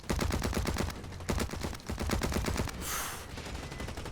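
Rapid automatic gunfire from the shooter game Blacklight Retribution rattles in dense, continuous bursts with brief gaps, loud and close, with no talking.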